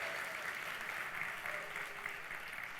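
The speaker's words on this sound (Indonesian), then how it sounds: "Tetap berikan aplaus untuk mereka semuanya." Audience applause at an event: dense, sustained clapping from a crowd, even and loud throughout with no pauses.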